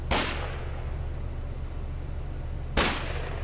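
Enemy artillery booms twice in the video game Foxhole, each a sharp, loud blast with a short decaying tail, spaced about two and a half seconds apart over a steady low rumble of background noise.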